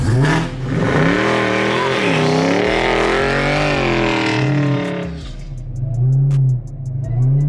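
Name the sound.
Dodge Hellcat Widebody car accelerating and shifting gears on snow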